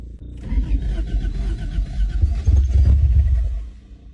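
An old Honda Civic with a bent header panel cranks and fires up, its engine catching into a loud, rough idle that swells and steadies close by before easing off.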